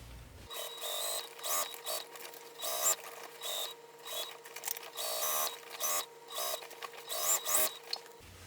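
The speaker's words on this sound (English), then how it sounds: "I'll start sewing here and then sew all the way around just to base this in place" A sewing machine stitches a seam on fabric for a sewing organizer, running in quick close bursts with short pauses between, its mechanical whir and clatter loud and unaccompanied.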